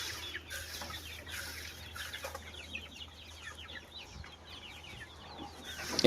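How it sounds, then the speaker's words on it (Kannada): A flock of chickens clucks in scattered, overlapping calls at feeding time on a farm, moderately close and steady throughout with no talk. "ಇವಾಗ ಕೋಳಿಗೆ ಪೀಡ್ ಹಾಕ್ತಾ ಇದ್ದೀನಿ"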